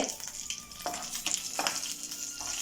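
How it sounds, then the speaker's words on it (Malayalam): Mustard seeds sputter and pop in hot oil for a drumstick theeyal curry, a steady sizzle broken by sharp crackling bursts, close and fairly loud with no talking. "കടുക് പൊട്ടട്ടെ അവിടെ കിടന്നിട്ട്"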